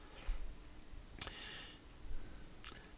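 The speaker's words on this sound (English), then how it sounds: "I'm just going to double click on one of these." A computer mouse gives a few faint, sharp clicks, one clearer click near the middle and another pair later, against quiet room noise with no speech.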